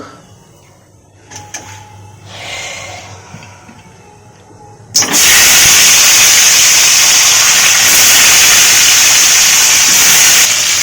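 Potatoes go into hot oil for biryani: after a few seconds of quiet kitchen noise, a sudden loud, dense frying hiss bursts in and continues strongly to the end.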